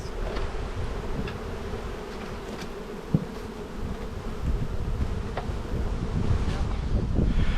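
Honey bees buzz steadily around an open hive during spring buildup, a dense continuous hum close to the microphone with some wind noise and no talking.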